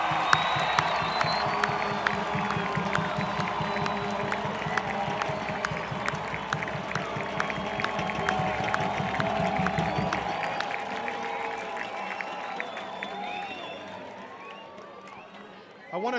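A big college soccer crowd applauds and cheers after the men's match between BJU and Southern Wesleyan University, a dense, sustained wash of clapping and whoops that carries on for about ten seconds before thinning out into quieter crowd murmur.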